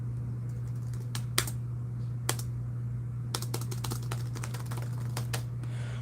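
An old laptop keyboard is typed on in scattered bursts of crisp, close key clicks over a steady low electrical hum, with no talking.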